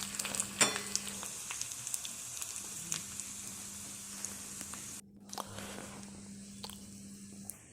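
Sliced onions and curry leaves fry in oil for a coconut mackerel curry, a close bubbling sizzle with scattered crackles and occasional scraping stirs, a brief dip midway, and no voices.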